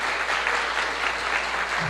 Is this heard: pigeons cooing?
no